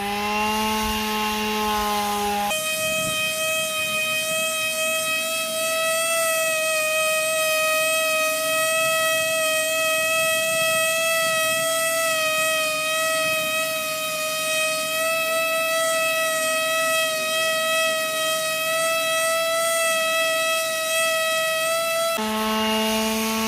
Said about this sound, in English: now we're going to just take the palm sander and we're going to go over and we're going to smooth it out